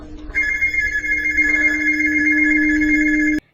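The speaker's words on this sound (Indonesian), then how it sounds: "Tiba-tiba ada suara HP berdering" A mobile phone rings with a loud, steady electronic tone that starts suddenly, holds for about three seconds and then cuts off abruptly, heard alone without voices.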